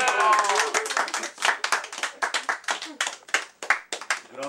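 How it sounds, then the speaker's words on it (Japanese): A small group at a planning meeting claps together, distinct hand claps in uneven bursts with gaps between them, close and moderately loud. "はい、拍手"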